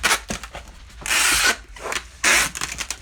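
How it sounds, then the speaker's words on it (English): Packing tape pulled from a tape gun to seal a shipping package holding a comic book, two loud rasping screeches of tape unrolling with smaller rustles and handling noises in between. "Tape guns don't like to cooperate all the time."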